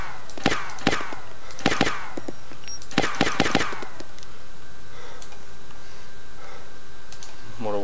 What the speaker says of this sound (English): What a waste of shots.